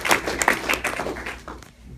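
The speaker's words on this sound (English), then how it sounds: "everybody give Class 17007 a round of applause." Applause for a graduating tech school class at a ceremony: scattered claps ring out at moderate distance, uneven and fading toward the end.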